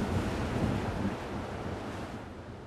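Rough storm sea waves off Christchurch, Dorset, surge and crash under heavy wind buffeting the microphone, a loud, continuous roar with no voices.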